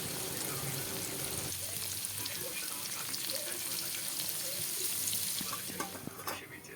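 Paneer frying in a pan makes a steady, watery sizzle at close range, fading somewhat toward the end, with a voice talking faintly in the background.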